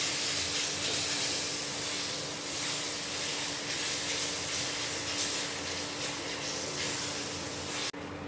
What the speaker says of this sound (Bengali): একটু 3-4 মিনিট একটু ভেজে নেব ভালো করে